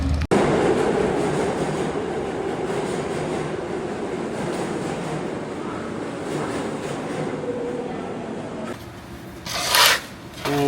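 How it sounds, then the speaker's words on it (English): A New York L subway train rides along, producing a loud continuous rumble and rattle from inside the car that drops off near the end, followed by a brief screech-like burst. "we're getting the L train now"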